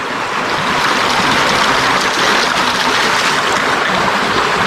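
Water rushes steadily through a gold prospecting sluice in a Wicklow stream, a constant broadband flow with no pauses, close and loud throughout.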